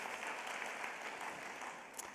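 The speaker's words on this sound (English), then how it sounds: "a big round of applause for our sponsors" Faint, steady applause from a distant audience at a county teacher-of-the-year celebration, a soft continuous wash of clapping with no voices standing out.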